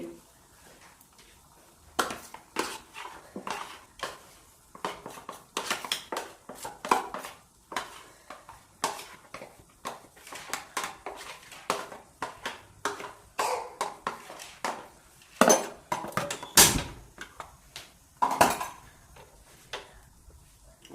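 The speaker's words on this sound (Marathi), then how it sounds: "जो आपला हा डब्यामध्ये मसाला राहिला आहे हो या कढईमध्ये टाकून देते" Leftover masala scraped from a container into a kadai while making chicken fry, heard as scattered taps, clinks and scrapes in irregular bursts at close range, with faint talk in between.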